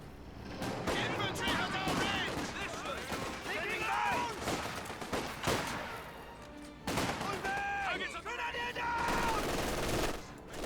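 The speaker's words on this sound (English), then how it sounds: "Magenta MG42 does get one burst off onto this intersection" MG42 machine gun in Company of Heroes 2 fires a short burst amid a busy battlefield mix of other gunfire and effects, with talk running over it throughout.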